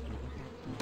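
A buzzing drone of bees hums steadily through the whole moment, with a brief louder rush of noise at the very end.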